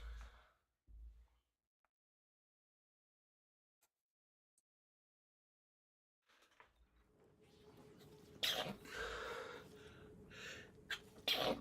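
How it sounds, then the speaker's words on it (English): Several wet, breathy sneezes burst out close and loud in quick succession after a long near-silent stretch broken only by a few soft low thumps. "And the fucking sneezes."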